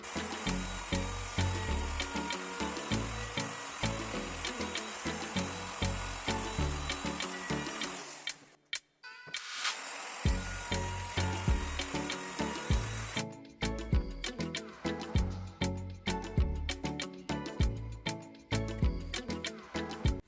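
A wood router whines steadily for a long stretch routing a wooden truss, stops briefly, then resumes with a harsher, rattling cutting noise.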